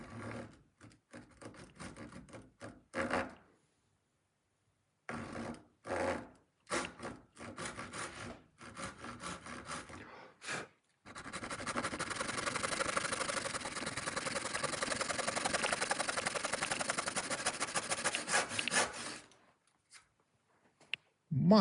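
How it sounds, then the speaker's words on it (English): Irwin tenon saw crosscutting wood in a workshop, with short bursts of rasping strokes and pauses between them, followed by a longer run of steady close sawing. "I'm actually gonna cross cut these just to see the finish"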